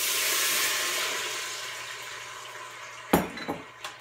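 Water is poured into a hot, oiled Instant Pot, giving a loud hiss that fades over a few seconds before some sharp clinks of metal.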